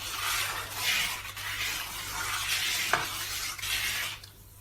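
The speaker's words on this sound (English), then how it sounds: "And then you're just going to stir this a little bit." A pot of water with bicarbonate of soda is stirred steadily over the heat for pretzel-making, giving a continuous close swishing and scraping with a faint clink of the spoon partway through.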